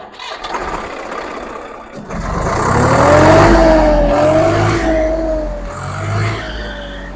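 A heavy engine kicks in and revs up loudly, holding a rising, wavering roar before easing slightly, close by with no talking.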